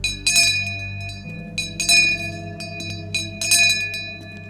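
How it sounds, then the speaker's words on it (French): A bell rings out through a town in clear, bright strikes, with three clanging bursts at an even pace and a long ringing hum between them. "On est obligé de faire la cloche dans toute la ville."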